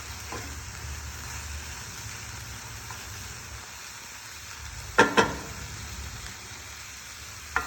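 Chicken frying in a pan of seasoned vegetables with salt and pepper, a steady low sizzle with a pair of sharp utensil knocks partway through and one more at the end, no speech.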